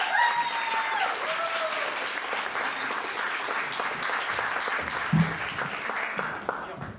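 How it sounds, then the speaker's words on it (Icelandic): Audience applause following a performance at a library poetry slam, a continuous patter of many hands clapping with a faint tone at the start and a few scattered voices mixed in. "Gefum honum gott klapp."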